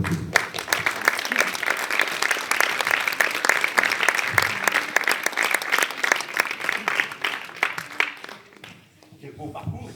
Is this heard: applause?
yes